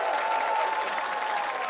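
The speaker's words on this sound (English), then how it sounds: "the crowd's getting into it" A live crowd at an LCS esports match between Team Liquid and Golden Guardians cheers and applauds in a steady, dense roar, heard alone without speech.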